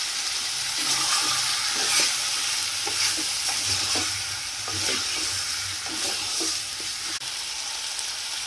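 Chicken curry ingredients sizzle in a pan with turmeric while a spoon stirs and scrapes repeatedly, a close, steady frying hiss broken by rhythmic scraping strokes.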